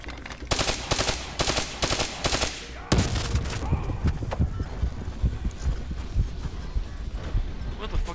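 Gunfire in the video game Call of Duty Black Ops 3 as vats are shot down: about three seconds of rapid, evenly spaced automatic bursts, then a heavy crash and continuing clattering, rumbling game noise.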